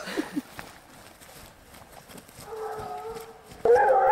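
Hunting hounds bay during a chase with hounds through hilly wooded terrain, distant howling cries carrying faintly at first, then a louder, closer burst of baying near the end.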